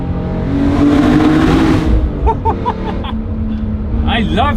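A short-geared BMW E46 M3 CSL accelerating hard through a road tunnel, its engine roaring loud and close and climbing in pitch before a gear change and another rising pull, the echoing tunnel adding to the noise.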